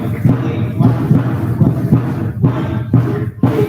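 A drummer at a live dance show plays a steady, loud, booming beat in repeating groups of strokes, the hits close and reverberant with a rumbling low end.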